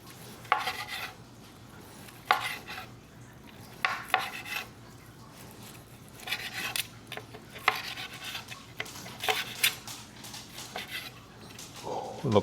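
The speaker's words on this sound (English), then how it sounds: "Just gonna cut it up." A knife chops through Chinese BBQ pork (char siu) on a board, giving sharp, regular thuds every second or so with light scraping between them, close and alone.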